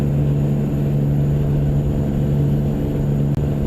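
A heavy truck engine in American Truck Simulator idles with a deep, steady rumble and a droning low hum, constant and close, with no talking.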